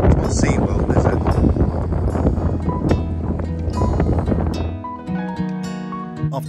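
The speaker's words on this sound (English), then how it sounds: "windy today." Strong wind roars steadily across a microphone on the Scottish coast near Fairy Glen Falls, a loud continuous buffeting that eases slightly toward the end.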